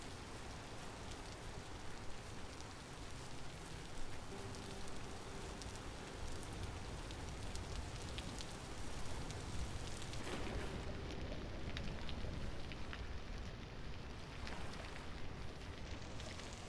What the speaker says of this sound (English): Really need to get out from under these damn rain clouds.